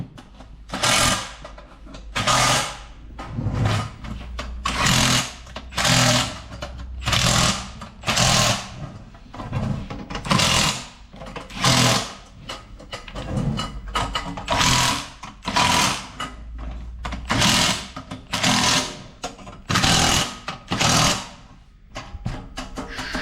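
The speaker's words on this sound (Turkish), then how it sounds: "Şimdi somun sıkmayla somunlarını sıkıyorum." A powered nut driver tightens nuts on the stand of a Turkish riveting press machine during assembly, buzzing in roughly a dozen short, loud bursts separated by brief pauses, close by with no talk.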